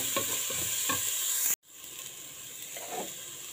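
Spring onions stirred into pasta in a pan over a slow flame, a soft sizzle with rhythmic scraping spoon strokes, cut briefly by a gap before the gentle frying continues.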